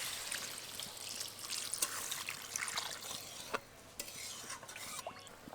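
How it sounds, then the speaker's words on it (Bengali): Water poured into a pan of vegetables fried in spices for a fish curry with bata fish and thankuni leaves, a soft trickling splash with faint sizzling and stirring, fairly quiet. "এখন এর মধ্যে জল দিয়ে দেবো।"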